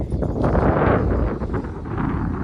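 Steady wind rushes and buffets the microphone on Tarsingado hill, a broad roaring hiss that swells and eases over a few seconds with no voices.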